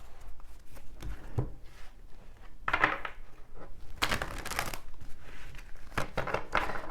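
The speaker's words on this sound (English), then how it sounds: "Let's do some shuffling." Tarot cards from a Light Seers deck being shuffled by hand, giving soft, close riffling and rustling bursts that come irregularly over a faint background.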